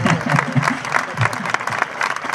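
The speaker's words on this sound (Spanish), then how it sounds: "Venga, dale un aplauso para que se venga arriba, hombre." Crowd applause fills a bullring during a festival bull-ring proclamation event, steady clapping throughout with some voices mixed in.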